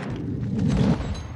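A grenade going off in Modern Warfare 2 multiplayer: one muffled, deep boom that swells and fades within about a second, heard alone without talk.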